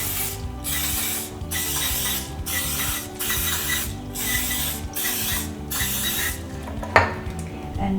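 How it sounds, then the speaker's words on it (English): Cooking spray hisses onto small heart-shaped molds in rapid, evenly spaced short bursts, about seven in a row, close and clear, with a metallic clink near the end. "now I'm going to spray each of my little hearts here"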